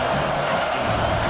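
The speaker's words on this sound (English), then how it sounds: "Here comes this home crowd as the defense tries to get off the field on 3rd down." Home crowd cheering at a Canadian football game, Winnipeg at Toronto, as the defense tries to get off the field on third down: a dense, steady roar of a large stadium crowd, loud and continuous throughout.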